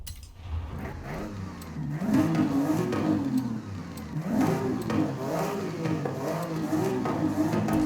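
A race car engine with an aftermarket exhaust revs in a racing video game, rising and falling in repeated throttle blips with a raspy, burbling tone, steady and close with no talk over it.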